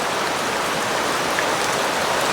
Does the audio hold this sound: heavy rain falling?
yes